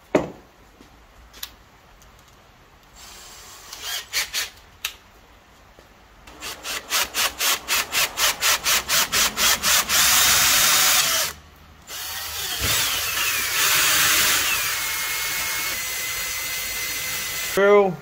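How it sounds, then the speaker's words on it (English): Power drill whirring through a part of a 1/5 scale Losi 5T RC car in bursts, with a rapid series of short grinding pulses followed by a sustained loud drilling run, close up. "So I'll drill a hole first."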